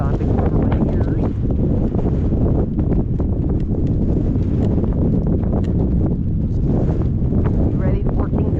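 Gale-force wind buffets the microphone outdoors during a drive with a horse, a loud and continuous roaring rush that never lets up, while a voice talks over it.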